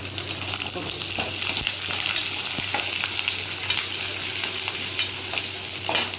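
Green chillies and dried red chillies fry in a pan with a loud, dense sizzle, broken by occasional clinks and scrapes of stirring, close-up and without talk.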